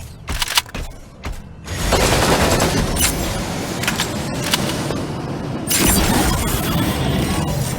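Dense, sustained bursts of rapid gunfire in the Super Mecha Champions video game, loud and continuous after a short choppy start, with no talking over it.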